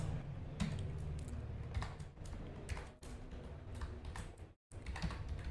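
Quick, uneven keystrokes clatter on a computer keyboard as code is typed, close and fairly quiet, with a short pause near the end.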